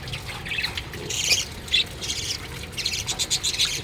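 A hen squawking in a nest with chicks, a few sharp, close squawks and calls in short bursts over faint background noise.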